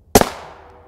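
A single sharp rifle shot from an M193 round fired at an ESAPI armor plate, a loud close crack with a quick second impact and a short decaying tail outdoors.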